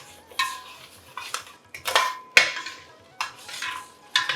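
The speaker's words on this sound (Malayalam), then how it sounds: "ഇതിലേക്ക് നമുക്ക് സേമിയ ഇടാം." Roasted vermicelli is tipped into caramel in a pan for Onam caramel semiya payasam, with repeated scraping, stirring and metal utensil clinks against the pan, close and uneven in rhythm.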